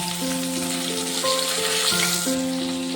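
Cauliflower sizzles in hot oil with turmeric in a kadai, a steady dense frying hiss. Sustained tonal hum from the background runs underneath throughout.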